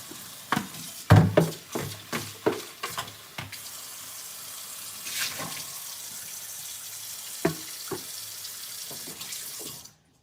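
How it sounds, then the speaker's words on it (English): Water pouring and splashing out of a pot of boiled shrimp as it is drained in a kitchen, with irregular gushes and clinks in the first half, then quieter trickles and a few knocks. "I need to drain most of this water out."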